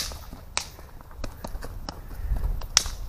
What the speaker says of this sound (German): Das war der Knallerbsentanz?